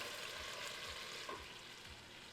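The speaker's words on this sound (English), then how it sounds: "You guys hear that sizzling?" Steady, close sizzling and crackling from a frying pan, a dense hiss with occasional soft pops and no talking.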